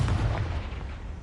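A Confringo fire-spell blast in the video game Hogwarts Legacy, a loud, close booming explosion with a heavy low rumble that fades over about a second, no talk.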